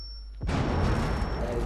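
Frag grenade in Rainbow Six: after a short quiet moment, a sudden loud blast hits and rolls into a long rumbling tail of debris and echo, with talk faintly under it.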